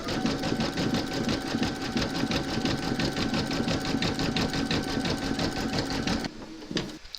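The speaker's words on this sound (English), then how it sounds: "You're now going to stitch round number 18, and that's going to zigzag the raw edges." A sewing machine runs a steady, rapid zigzag stitch along the raw edges of a fabric reindeer slipper, a close, even mechanical chatter that halts just before the end.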